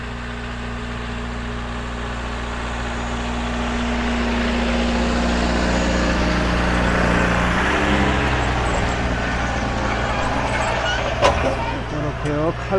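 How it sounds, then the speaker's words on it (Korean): A tractor passing along a wide farm road through desert vegetable fields, its low engine drone swelling to a peak midway and staying steady, with a voice talking over it. "저편에 이제 트랙터가 지나갈 때 다시 영상을 열겠습니다."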